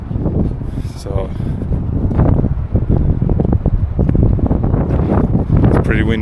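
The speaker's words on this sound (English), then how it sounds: "it's pretty windy up here on the bridge. I hope it's not messing with the noise too much." Wind gusting across a bridge in Derry buffets the microphone, a steady low rumble that rises and falls under continuous close talking.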